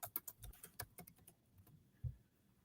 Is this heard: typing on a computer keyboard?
yes